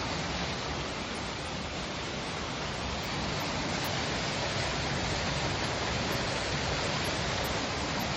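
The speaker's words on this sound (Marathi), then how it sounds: "अर्थात ही पोटोमॅक्स नदी आहे" Steady, dense rushing of the Potomac River in McLean, Virginia, loud and constant throughout with no voices.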